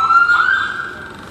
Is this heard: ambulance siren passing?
yes